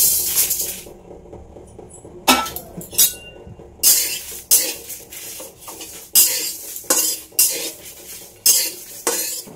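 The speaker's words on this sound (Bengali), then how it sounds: "এটা এখন আমি শুকনো খোলায় ভালো করে ভেজে নেব।" Whole fennel, cumin, panch phoron, coriander and dried chillies dry-roasting in a pan, heard as repeated loud scraping strokes of a spatula with metallic clinks, in a rough rhythm with short quiet gaps.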